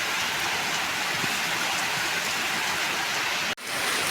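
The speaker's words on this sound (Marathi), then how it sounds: "एवढा मुसळधार पाऊस चालू आहे" A torrential cloudburst downpour in Vidarbha roars without pause, thick broadband hiss of heavy rain on surfaces, loud and close, with no talking.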